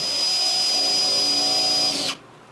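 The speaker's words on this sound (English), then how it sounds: "now I'm going to use a spade bit, 9/16, just popping into the" Drill with a 9/16 spade bit boring into drywall, a close, steady whining spin that holds for about two seconds and then cuts off abruptly.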